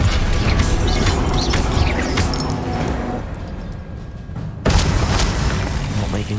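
Spell explosions from Confringo in Hogwarts Legacy boom loudly amid continuous game combat noise, with a brief quieter lull before another sudden blast.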